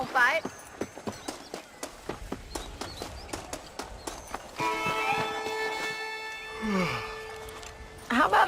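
Horse hooves clip-clop in a quick galloping rhythm in the video game Red Dead Redemption, a steady series of sharp hoof strikes, then a rising engine-like drone with speech taking over toward the end.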